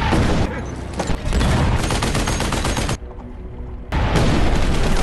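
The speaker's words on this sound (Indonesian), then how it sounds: "Si penambang berhasil selamat dari hujan tembakan dan serangan meriam kapten." A loud, dense hail of gunfire mixed with booming cannon shots keeps going almost without a break, with a short quieter lull partway through before the barrage resumes.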